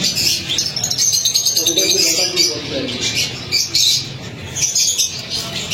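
An angry breeder pigeon, just lifted off its eggs at a Karachi bird market, squawks and grumbles loudly up close in harsh bursts over steady background noise.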